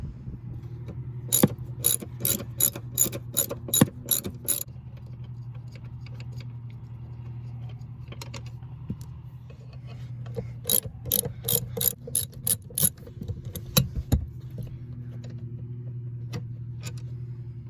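Ratchet wrench with an E12 Torx socket turning car seat bolts on a 2019 Dodge Charger Hellcat, two quick bursts of sharp rapid clicking separated by a pause, close and loud over a low steady hum.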